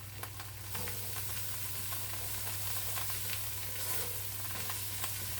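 Onions and bacon fry in a pan, giving a steady close sizzle with scattered pops and crackles under a low kitchen hum, no one speaking.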